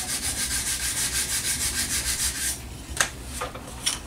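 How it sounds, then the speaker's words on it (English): The edge of a balsa model airplane wing for a Carl Goldberg Eagle 2 kit is sanded by hand in quick rhythmic back-and-forth strokes, close and fairly quiet, then a few light scrapes and taps follow. "I'll sand this edge."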